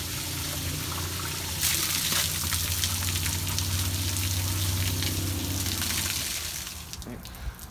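Water draining from the water tank of a Holcombe mixer truck, a steady, loud gushing and splashing rush over a low mechanical hum, which tapers off toward the end.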